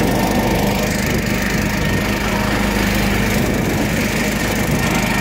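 John Deere 312 riding mower racing a Carter Talon, its small engine roaring in a loud, continuous buzzing drone at steady high revs, close by and without talk.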